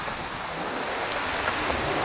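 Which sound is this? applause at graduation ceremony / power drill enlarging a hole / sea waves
sea waves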